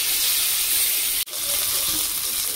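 Bhangon fish frying in hot oil makes a steady, close sizzling hiss. It cuts out briefly for an instant and then resumes.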